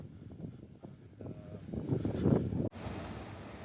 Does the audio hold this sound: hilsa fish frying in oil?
no